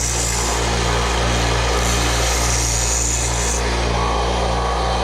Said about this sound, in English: we can grind that down and make it look pretty in just 1 second